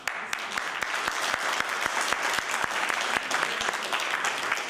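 An audience breaks into a huge round of applause, dense and steady clapping filling the room for several seconds without letting up.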